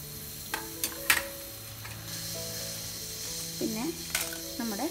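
Fenugreek seeds fry in hot oil for a sambar, with a soft continuous sizzle and light stirring clicks close by, under faint background tones.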